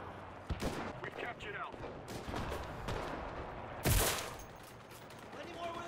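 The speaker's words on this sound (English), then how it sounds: "I'm being shot. Stop shooting at me, Krauts." Gunfire in the video game Enlisted, set in a World War II Tunisia campaign, with scattered single shots and short bursts around the player and one loud near crack, under intermittent speech.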